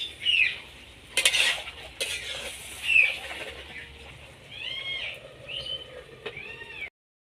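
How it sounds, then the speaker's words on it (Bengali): Vegetables for a bottle gourd greens dish are stirred in a pot after water is added, with scraping spoon strokes and metallic clinks against the pot, followed by the clatter of a lid being set on. "দিয়ে হালকা নেড়ে আবার ঢাকা দিয়ে দেব।"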